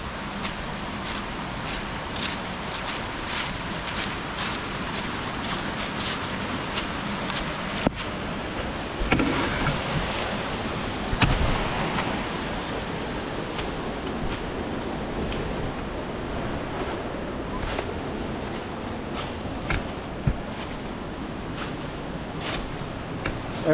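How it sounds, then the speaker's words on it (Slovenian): Steady broadband rush of the Bojanca waterfall on Bohor mountain, a continuous roar of falling water with a few brief knocks and bumps on top, no talking. "Tukaj je pa ta slap Bojan."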